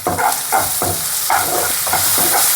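Onions and ginger paste frying in a pan for a potato curry, giving a steady close sizzle with repeated bursts of stirring scrapes about every half second.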